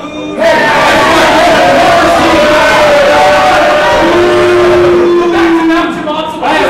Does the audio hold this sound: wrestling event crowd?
yes